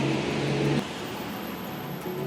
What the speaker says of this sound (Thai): มีเสียงรถนะคะ